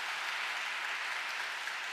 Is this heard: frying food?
no